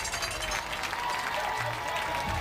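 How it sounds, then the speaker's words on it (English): Crowd at a high school football game, Beverly vs Saugus, applauding an injured player; a steady, moderate wash of clapping heard from a distance with faint background crowd noise. "let's have a nice applause for Ron"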